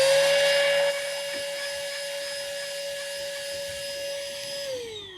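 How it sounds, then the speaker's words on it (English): Ryobi rechargeable portable electric vacuum running steadily near the microphone while cleaning an air conditioner unit, a continuous high motor whine that dips slightly in pitch after the first second and winds down at the end. "an electric portable vacuum is much easier"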